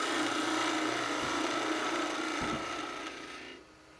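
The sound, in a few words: carving wood with a 1 5/8 gouge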